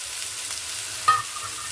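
Green chilli sizzles and fries in a pan for a festive Navratri palya dish, a steady soft crackle with a brief louder burst of spitting as it goes in.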